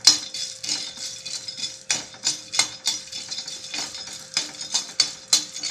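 Peeled, already roasted peanuts tossed and stirred in a hot pan, a run of close, irregular rattling clatters as the nuts and spoon knock against the metal, alone without speech.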